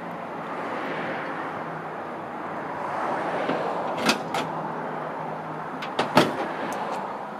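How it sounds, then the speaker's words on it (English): The hood of a 1935 Ford Fordor four-door sedan is lowered and shut, giving two close, sharp metallic thumps a couple of seconds apart over quiet outdoor background noise. "And that hood closes easy."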